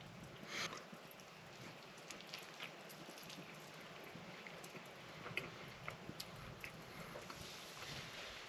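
Steady rain falling outside a cave at night, a soft, even wash with scattered drip ticks, heard from inside the shelter at a low, distant level with no voices.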